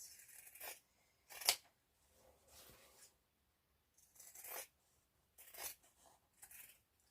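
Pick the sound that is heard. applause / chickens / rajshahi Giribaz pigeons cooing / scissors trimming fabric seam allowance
scissors trimming fabric seam allowance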